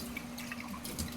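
Water trickles and drips while a Rattleware coffee cupper is rinsed, a faint, brief splashing with light droplet sounds close by.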